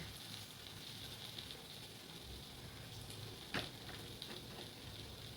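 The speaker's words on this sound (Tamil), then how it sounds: "எண்ணெய் ஊற்றி எண்ணெய் நல்லா சூடாகட்டும்." Steady, soft crackling sizzle of oil heating in a frying pan for Mysore bonda, continuous and fairly quiet, with one faint clink partway through.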